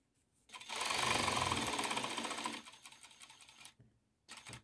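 A sewing machine stitches squares onto fabric wipes, running steadily for about three seconds before stopping, then starting again in a brief final burst. The whirring is close and fairly loud, with no talk.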